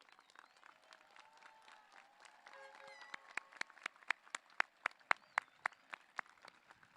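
At a high school commencement, faint scattered clapping and murmuring build into a few loud, sharp claps close by, with a whistle or cheer briefly rising midway.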